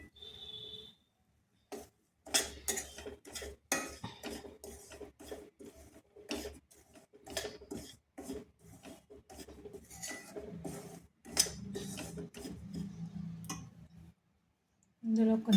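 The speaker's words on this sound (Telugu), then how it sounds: "ఇప్పుడు మనకి ఇది సిమ్లోనే పెట్టుకొని ఫ్రై చేసుకోవాలండి" Bombay rava is fried on low heat in a pan while a spoon scrapes and clinks against the metal in quick, uneven bursts, with short pauses between the stirring.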